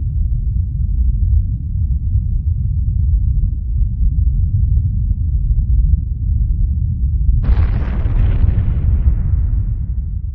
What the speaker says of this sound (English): This is the Graybull test, the one shot from a cannon, seen a couple of miles away.